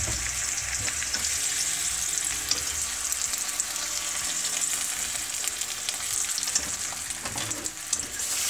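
Eggplant fries in melted butter and a splash of cooking oil, a dense, even sizzle and crackle that holds steady throughout, close and loud, with occasional stirring scrapes.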